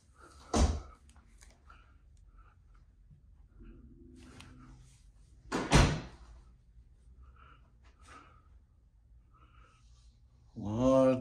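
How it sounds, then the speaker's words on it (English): A bathroom door in a new house is opened, with two distinct thuds and knocks a few seconds apart and a faint creak between them, set in a quiet room before a voice begins at the end. "Let me open the bathroom door here real quick."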